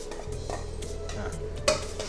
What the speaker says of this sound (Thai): ผมจะเจียวพริกนะครับ ให้มันมีกลิ่นหอมนะ